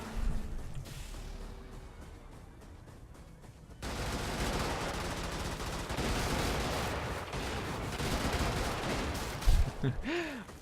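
Machine gun fire in the video game Brigador: a quiet lead-in, then dense, sustained rapid bursts of gunfire with impacts, ending in a louder crash and a few whooshing sweeps.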